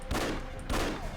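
Two loud, close bursts of gunfire in the video game Afterfall InSanity, each a sharp crack with a short ringing tail, about half a second apart.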